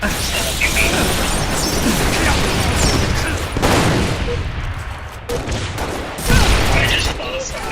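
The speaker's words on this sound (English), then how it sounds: "Who the fuck is shooting me from the side?" Dense, loud video game gunfire with rapid bursts and booming shots crowding together almost without pause, close and continuous throughout.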